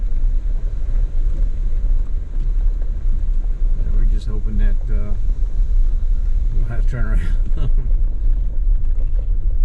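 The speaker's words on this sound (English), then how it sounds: "You can see the wind kicking up pretty good." Strong wind blowing outdoors on a stormy day on a trail traverse in Georgia, a steady loud rumbling roar buffeting the microphone throughout, with people talking over it.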